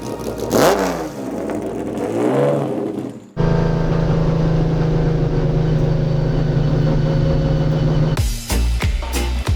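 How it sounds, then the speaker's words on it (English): A classic race car at the Le Mans Classic fires up and revs, sharp throttle blips rising and falling before settling into a loud, steady, close-up idle roar, then cutting off abruptly. "Let's start the car. I want to hear the engine."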